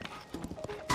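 Horse hooves clip-clop in a video game, a few quick uneven steps under a busy mix, close and moderately loud for under a second.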